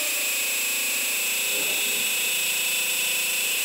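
A Chaos Pad synth drone runs through a noisy high-feedback loop, a steady dense wall of bright buzzing tones and hiss holding constant throughout, with a brief low warble in the middle.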